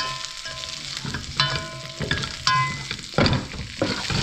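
Air-fried chicken wings are tossed and stirred through a honey garlic sauce, giving a few separate clattering, sticky scraping bursts close up, with no talking.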